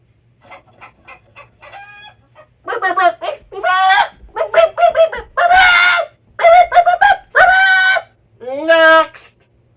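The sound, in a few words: voice imitating a chicken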